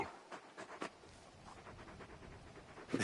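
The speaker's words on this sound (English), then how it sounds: "You're just a big puppy, aren't you? A very big puppy." A large dog companion pants softly in a fantasy role-playing video game, quick breathy huffs repeating irregularly at low volume with no speech over them.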